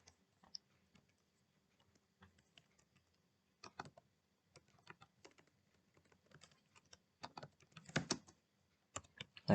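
Typing on a computer keyboard while entering a short phrase into a Word document: sparse, irregular clicks in short bursts that grow denser near the end, close and fairly quiet, with no talking.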